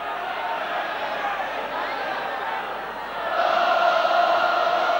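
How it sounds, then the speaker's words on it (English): Rugby league supporters at the Boulevard, Hull, sing together in a big stadium crowd, a sustained chanting roar that swells louder midway, with a commentator speaking over it. "And the crowd singing once more, trying to get Hull going."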